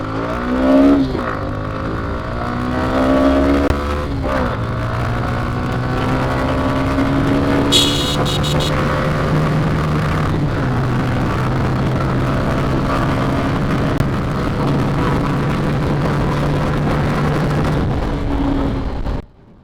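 A Suzuki Gixxer SF motorcycle revs hard through its gears in a 0-100 acceleration run, the engine note rising steadily and loud, close to the rider, with brief dips at shifts.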